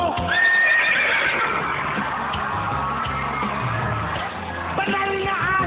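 A man imitates a horse, neighing and whinnying in a long, loud call on a talent show stage, with some hoof clatter and distant yelling around it.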